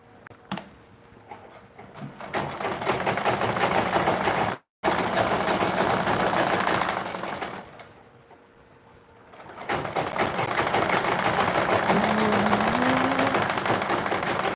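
Sewing machine running steadily while stitching a basic skirt with an elastic band, a continuous whirring hum with a brief stop near five seconds and a quieter lull before the stitching resumes.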